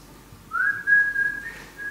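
Someone whistling at a window: a single rising, then sustained whistled note lasting about a second and a half, fairly clear over a quiet background.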